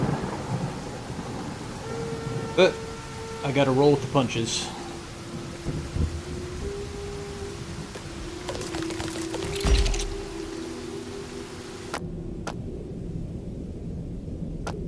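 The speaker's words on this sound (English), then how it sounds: "how are they gonna use their arrows when the rain is literally going sideways? That's a lot of wind." Thunderstorm with rain and gusting wind in the strategy game Bad North, steady rain hiss beneath a rumble of thunder, with scattered game tones and a voice talking over it before the sound suddenly cuts away.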